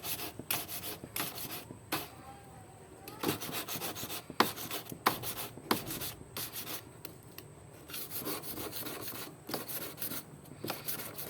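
A metal file rasps across a ring being resized, sounding as short, close scraping strokes in an uneven rhythm, with brief pauses between bursts and no talking.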